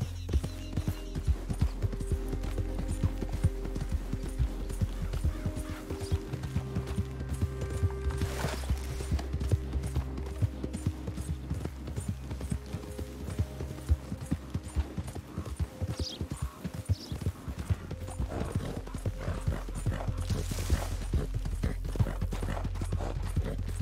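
Horse hooves clip-clop steadily at a trot in Red Dead Redemption 2, close and rhythmic over a low music and ambience bed, with occasional soft speech.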